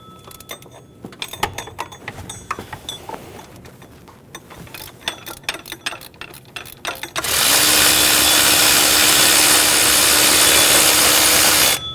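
Ratchet working a lower power steering pump bolt on a 2003-2008 Honda Pilot, clicking in short irregular bursts for about seven seconds before a loud, steady broadband hiss takes over.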